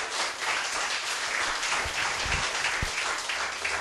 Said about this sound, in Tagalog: pumalakpak sa Diyos.